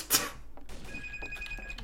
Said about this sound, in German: Telefon! Ja, hallo! Immer noch Telefon!